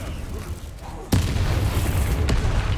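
Bombarda and Confringo spells explode in Hogwarts Legacy, two sharp booming blasts about a second apart, each with a rumbling tail, loud and close.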